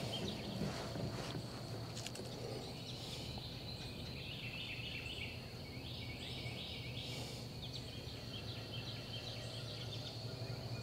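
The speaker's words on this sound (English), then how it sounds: "I hear another boat." A motorboat passes on open water during a fishing outing, its engine a faint, steady hum carrying from a distance beneath wind and insect noise.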